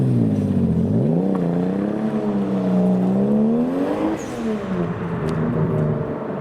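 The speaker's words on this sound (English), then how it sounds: "C63 is hooning." Mercedes C63 engine revving hard at a car meet, a loud nearby roar that climbs, holds and rises again before easing off, with faint clatter in the background.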